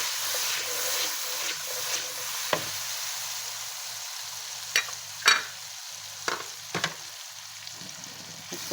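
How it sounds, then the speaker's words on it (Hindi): Spice masala with yogurt for goat paya fries in a pot with a constant close hiss, punctuated by scattered sharp scrapes and knocks of a spoon stirring it. "तो अच्छे से भून लेंगे मसाले को।"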